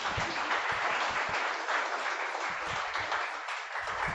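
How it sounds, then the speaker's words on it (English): An audience at a business pitch competition gives a presenter a round of applause, a sustained, moderately distant wash of clapping hands. "One more round of applause for Ishmael."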